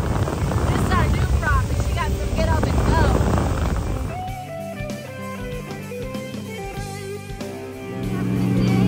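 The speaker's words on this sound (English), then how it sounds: "the motor's actually made in China through a subsidiary of Tohatsu, which is a Japanese brand" A 60 horsepower Tohatsu outboard motor running on a boat, a droning engine hum under wind buffeting and someone talking, settling into a steadier tonal whine partway through.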